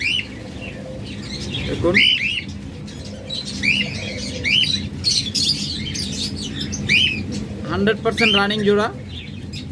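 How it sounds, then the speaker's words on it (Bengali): Pet lovebirds chirp and squawk in a shop or aviary, with bright repeated tweets scattered throughout, while someone talks over them. "তারপরে এখানে রয়েছে অফলাইন লাভবার্ড।"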